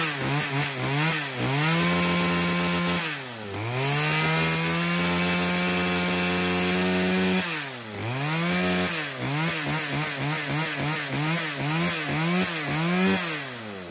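A used Japanese-market chainsaw engine pull-started and running, loud and close, with repeated throttle blips rising and falling in pitch between steady idle and revving stretches.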